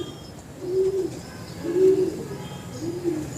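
A female pigeon coos in three low, rounded phrases spaced about a second apart, close and clear over a soft background hum.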